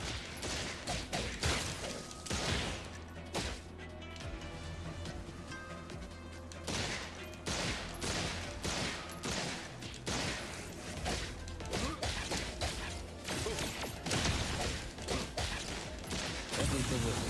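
Rapid bursts of gunfire from a shotgun cane in the video game Zenless Zone Zero, dense and percussive, with crashing impacts and whooshes piling up across the whole stretch.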